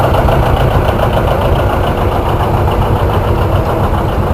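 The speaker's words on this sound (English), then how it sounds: "a John Deere 70 standard diesel" A John Deere 70 Standard diesel tractor engine runs steadily at a tractor show, a loud, close, continuous low throbbing rumble with no pauses.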